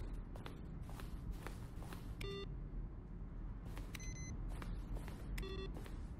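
Short electronic beeps from buttons pressed in The Stanley Parable, scattered over a few seconds above a low background rumble and soft shuffling.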